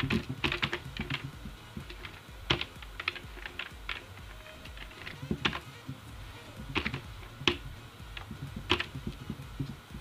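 Code typed on a computer keyboard, with steady bursts of sharp, close key clicks in uneven rhythm and short pauses between runs of keystrokes, heard alone without any voice.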